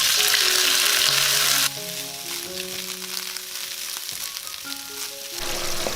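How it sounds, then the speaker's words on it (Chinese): Chinese broccoli (gai lan) stir-fried in hot oil in a Chaozhou-style beef ho fun kitchen: a loud, dense sizzle bursts at first, then settles into a steadier, quieter crackle with faint clinks as the greens are tossed. "重新起锅热油，炒芥蓝。"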